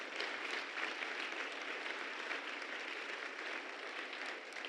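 A church congregation applauding during a sermon, a continuous even wash of many hands clapping at moderate level, heard alone without speech.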